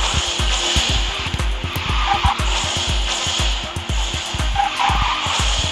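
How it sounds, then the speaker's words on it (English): A car drifting in the Garena Speed Drifters racing game: a loud, steady engine roar with continuous tire squeal and skidding, plus rapid rhythmic thumps throughout. "drifting is good"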